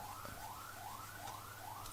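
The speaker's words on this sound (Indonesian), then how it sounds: "Ada bunyi polisi teman-teman. Kayaknya ambulan tuh." A wailing ambulance siren rises and falls in quick, regular sweeps, heard at moderate distance with steady background noise and no talking.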